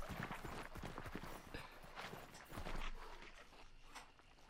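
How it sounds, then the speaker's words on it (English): Horses' hooves clip-clop steadily in the Hunt: Showdown video game, a busy, continuous trotting patter that sounds fairly close, with no talking over it. "Oh, horses."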